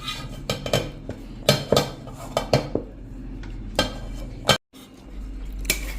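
A cooled churma laddu mixture is tipped from a vessel onto a plate, with irregular metallic clanks, scrapes and taps of a steel pan and spoon, close and fairly loud, with a brief silent gap near the end.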